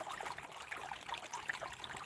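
Water rushing through a gold sluice just after a dam release, a steady broad wash with small trickling splashes, moderately quiet and continuous with no voices.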